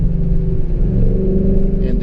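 A 2015 Mustang GT's Coyote V8 with a Gibson Performance exhaust holds a loud, steady deep rumble with a throbbing low burble throughout, close up and continuous.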